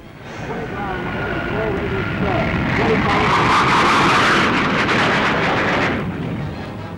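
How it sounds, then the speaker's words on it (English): A high-altitude light jet bomber with two Avon gas turbines roars past at a Farnborough air display, a broad, loud jet rumble that swells to a peak midway and then eases off, with someone talking over it. "The first high-altitude light jet bomber, it's powered by 2 Avon gas turbines and has a remarkable turn of speed and maneuverability."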